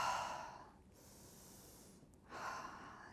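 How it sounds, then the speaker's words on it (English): Slow, calming breaths, a soft airy exhale, a quiet pause, then another breath, close and faint with no talking. "Breathing."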